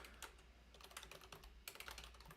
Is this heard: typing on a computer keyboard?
yes